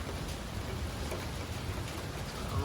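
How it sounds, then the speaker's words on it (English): Steady rain falls in a continuous, even hiss at the start of a thunderstorm in Thunder Bay, Ontario, with no distinct thunder or voices. "it's just starting to rain here now"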